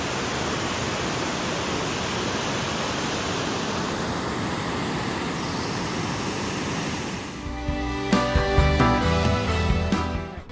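Virginia Cascades, a waterfall in Yellowstone National Park, roars as a steady broadband rush of falling water, then gives way near the end to louder, closer tonal sounds.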